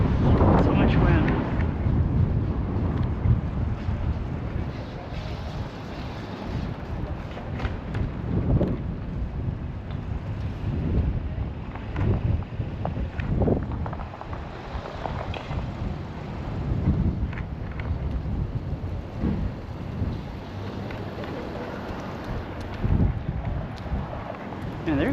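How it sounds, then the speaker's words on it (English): Strong wind buffets the microphone while biking outdoors on New Year's Eve, a loud, steady roaring rumble with gusting surges throughout, with occasional talk mixed in. "So much wind."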